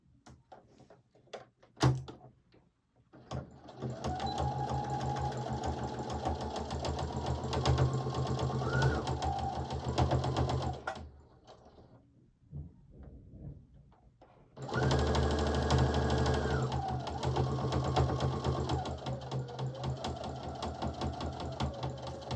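A sewing machine stitching the sleeves onto a onesie, two long steady runs of fast mechanical whirring and clatter broken by a quiet pause with small handling noises, close and without talk.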